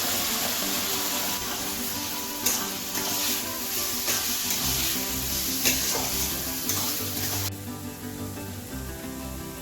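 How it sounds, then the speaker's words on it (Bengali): Fish frying in a pan in a home kitchen gives a loud, steady sizzle and hiss up close, broken by occasional sharp spits and a few clinks of stirring. "আর একদিকে মাছটা তো ভাজা হচ্ছে"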